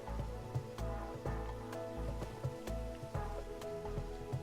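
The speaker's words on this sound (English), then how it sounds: "the rain effects on the water" Rain patters steadily onto water in the TerraFirmaCraft Minecraft modpack, a soft continuous hiss alongside low, pulsing game tones.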